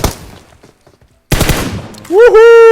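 PUBG Mobile gunfire: a loud, close burst of rapid shots that breaks out of near silence, quickly followed by a loud shouting voice.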